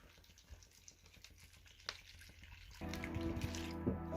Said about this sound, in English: grab your bottle of water, and you just want to fill it up until it's covered